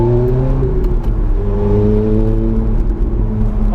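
A Ferrari F430 engine revs and pulls hard, its steady rising harmonic drone loud and close and running without a break, with no voices over it.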